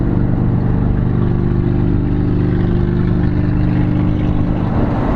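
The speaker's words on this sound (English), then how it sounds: "why you assholes need to have your exhaust that loud" A loud car engine revs hard and rumbles steadily, its deep exhaust roar filling the whole stretch without a break.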